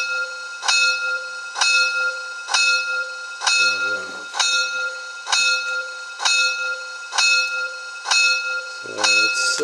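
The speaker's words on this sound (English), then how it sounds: "Using the ditch light feature linked to the F1, the bell, I now have this effect." Repeating bell effect from a DCC sound decoder fitted in an LGB 2071D model locomotive, ringing in a steady rhythm about once per second, with a brief low mechanical noise twice in the background.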